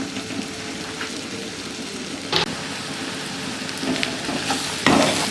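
Chopped onions and spices fry in a pan for a bottle gourd and chana dal curry, a patter-like sizzle close by with a few scraping stirs, no voices.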